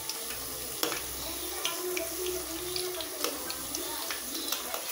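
Bitter gourd chilli pieces fry in a pan on medium heat with a constant crackling sizzle, broken by occasional sharp taps and scrapes. No one speaks.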